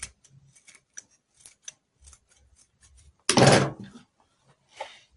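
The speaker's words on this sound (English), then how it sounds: "Then the excess zip, I'm going to chop it off." Scissors snip through excess zipper tape while sewing a box pleat blouse, one loud crunching cut up close after a few quieter taps and handling noises.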